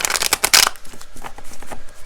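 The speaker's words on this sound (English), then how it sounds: "So I'm just going to shuffle a few more times." An oracle card deck being shuffled by hand: a dense burst of crisp riffling flutters up front, then a series of softer, quicker card slaps and rustles continuing at close range with no talking.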